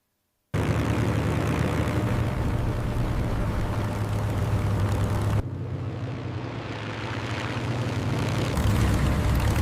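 A wartime Spitfire propeller aircraft lands, its engine a loud, steady broadband roar throughout with a slight drop in intensity partway through.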